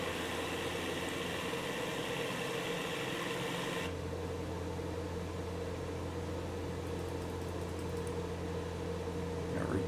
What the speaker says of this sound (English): Because you're outside, you hear the engine a little more.